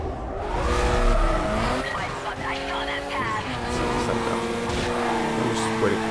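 Mazda RX-7 racing in Need For Speed Carbon, engine revving up and down through gear changes with tire squeal and skids, loud and close, partly under a voice talking.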